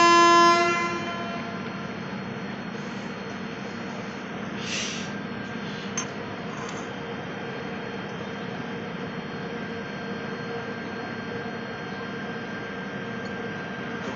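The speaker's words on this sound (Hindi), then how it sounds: "लोको पायलट ने होमकिंग भी कर दी है, तो हमारा डिपार्चर स्टार्ट होने वाला है पठानकोट से" The Shri Shakti Express stands at Pathankot station as it begins to depart, giving a sustained low rumble with a steady tonal drone, heard from nearby without any speech.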